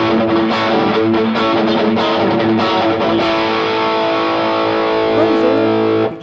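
Overdriven electric guitar through a classic rock amp with the gain around one o'clock, dense sustained chords and ringing notes played loud and steady for about six seconds with no talking.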